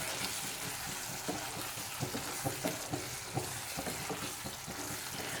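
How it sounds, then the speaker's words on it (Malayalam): Chicken liver cooked with black pepper simmers in a pan as it is stirred, giving a quiet, steady bubbling sizzle with soft scraping strokes of the spoon, faint and close with no voices. "ഒന്ന് ഇളക്കി കൊടുക്കാം."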